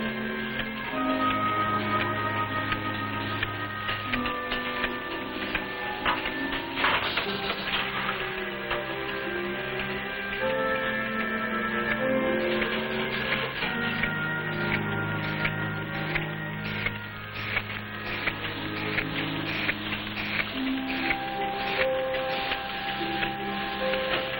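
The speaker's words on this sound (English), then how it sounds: "This machine places empty capsules into a circular metal disc." A Nutrilite capsule encapsulating machine runs continuously with steady mechanical ticking and clicking over a tonal hum, loud and close, under a narrator speaking.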